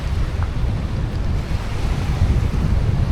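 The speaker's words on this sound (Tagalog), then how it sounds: "Grabe, sobrang hangin" Strong wind buffets the microphone in a steady low roar beside glacier-fed Waterton Lake, with a constant rushing wash like water lapping nearby.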